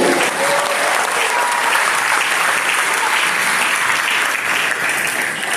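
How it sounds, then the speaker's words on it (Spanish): Church congregation applauding at an evening Spanish-language service, a dense, steady wash of clapping from a large crowd that continues unbroken throughout. "Den un aplauso al Señor en esta noche."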